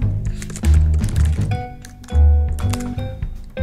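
Keys clatter on a computer keyboard in short bursts of rapid clicks separated by brief pauses, close and fairly loud, with no voice over them.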